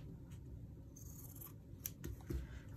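Scissors cutting fabric up close, soft crunching snips and rustling, quiet and brief with a couple of sharper cuts near the end.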